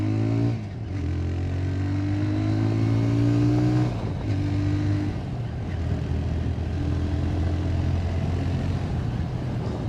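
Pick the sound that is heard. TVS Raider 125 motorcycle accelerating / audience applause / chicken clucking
TVS Raider 125 motorcycle accelerating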